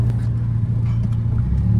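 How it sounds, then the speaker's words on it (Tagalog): Road traffic on the drive toward Marikina, a constant low car-engine rumble with a steady drone and slight revving, heard from inside a moving vehicle, close and fairly loud, with no talking. "So ayan, kagaya ng dati, traffic."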